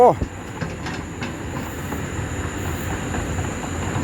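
A CAT excavator is driven down off a transport truck, its engine a low, steady rumble with faint metallic clanks, heard at a moderate distance.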